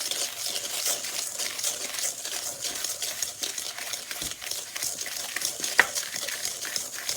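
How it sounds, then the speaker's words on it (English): Egg yolks whisked together with sugar in a bowl for a lemon sablé Breton dough, a steady fast scraping and tapping of the whisk against the bowl, continuous and close, with no voices. "So we're going to put 2 egg yolks in with our sugar. And whisk that together."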